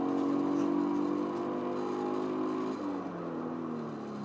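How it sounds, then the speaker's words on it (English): A Toyota Supra engine drones through a race on the Nürburgring in the video game Project Gotham Racing 4, a steady mid-pitched whine that shifts pitch partway through, moderately loud with no voices. "today I'll be driving my Toyota Supra, and I'm going to be racing a Mercedes-AMG CLK DTM"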